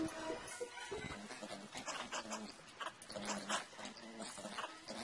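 Hounds in the video game Don't Starve, growling and whimpering in a busy cluster of short bursts amid other game sounds, fairly close and moderately loud throughout.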